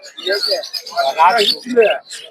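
Birds calling at Narsingdi's Putia bird market, where doves and budgerigar chicks are sold, with chirps and coo-like calls filling the clip in dense, overlapping bursts, close and fairly loud.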